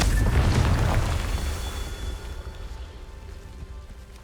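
A Confringo fire spell explodes in Hogwarts Legacy with a loud, deep boom at the start, then a rumbling, crackling tail that slowly fades.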